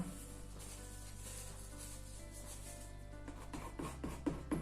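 Palette knife spreading paint across a canvas, pulling color from top to bottom. It makes faint, soft continuous rubbing and scraping, with a few more distinct scraping strokes near the end.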